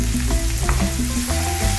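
Onion sizzles and fries in a pan over medium heat, a steady close crackling hiss with light stirring, no voices.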